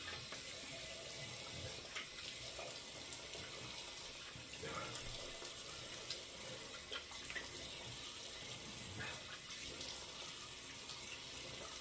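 Hot tap water runs in a steady, close spatter as it rinses a head before shaving, a continuous splashing hiss with small uneven flutters and no pauses throughout.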